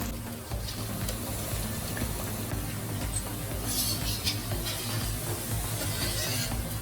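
Vazhaipoo vadai batter frying in hot oil in a kadai over a medium flame, a steady dense sizzle and bubbling hiss that holds at an even level throughout, with no voices.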